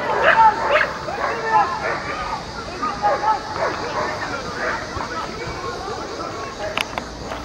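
Several dogs, Dogo Argentino and pit bull, bark and yip in short bursts in İzmir, loud and close, with a murmur of people in the background.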